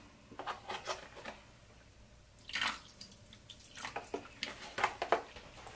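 Organic vegetable broth poured back into a pot of soup makes soft, uneven splashing and trickling in short bursts, quiet and close, with no talking.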